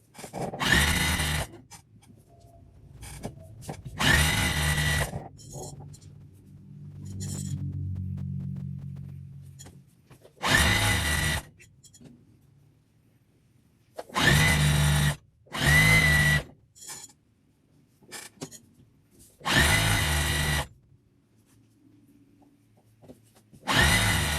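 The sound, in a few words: sewing machine back stitching along a scarf edge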